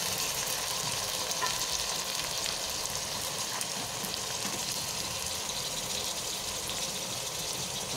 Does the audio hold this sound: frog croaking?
no